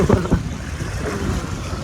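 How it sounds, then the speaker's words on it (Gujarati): Strong gusts buffet the microphone beside Bor Talav lake in Bhavnagar, loud close rumbling bursts at the start settling into a steady windy roar. "અને વાતાવરણ જો પવન એક નંબર પવન આવે છે."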